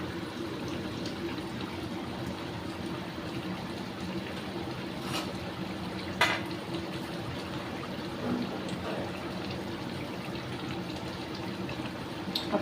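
A tangra fish curry with papaya and mustard paste simmers in a pan, giving a steady, faint bubbling hiss that runs continuously with a few soft pops and no talk.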